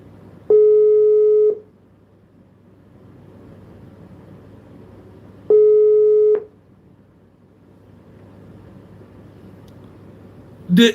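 A telephone busy signal sounds while a phone call is being returned: two loud, steady tone bursts about five seconds apart, each lasting about a second, with quiet line hiss between them and no talking.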